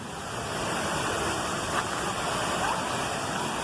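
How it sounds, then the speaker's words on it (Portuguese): Steady rushing water of a small waterfall, a constant broad splashing roar close by, with no voices. "Mais perto da cachoeira"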